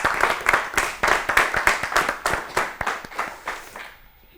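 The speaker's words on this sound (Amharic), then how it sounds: "እሺ አጨብጭቡላችሁ ለራሳችሁ።" Children on a TV quiz show clapping for themselves, a loud, close burst of quick, rhythmic hand claps that carries on for about four seconds before cutting off into silence.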